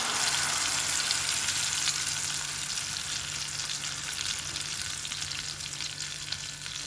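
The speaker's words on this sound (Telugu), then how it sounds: "గ్రేవీ వేసేస్తున్నానండి." Ground onion, tomato, ginger-garlic and cashew gravy for a jackfruit seed masala curry sizzles loudly in a pan with curry leaves and green chillies, giving a steady hiss with faint stirring scrapes.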